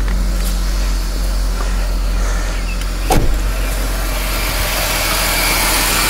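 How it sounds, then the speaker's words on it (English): A quiet car engine idles steadily, low and smooth with no ticking, and one brief sharp click or knock cuts in near the middle. "So let's go ahead and listen to this engine,"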